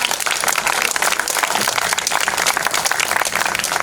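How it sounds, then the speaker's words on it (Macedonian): A large audience at a poetry evening gives a long, dense burst of clapping for a singer, a loud, continuous patter with no voices heard over it. "да го поздравиме со еден голем аплауз"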